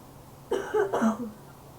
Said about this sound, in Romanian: Îmi scuzați că tușesc, dar sunt răcit.